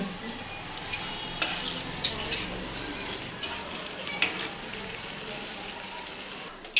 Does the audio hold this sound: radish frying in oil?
yes